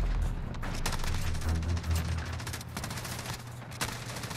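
A gold MG34 machine gun in a video game fires sustained, rapid automatic bursts, loud and close, with dense crackling shots and a heavy low-end thump running almost without pause.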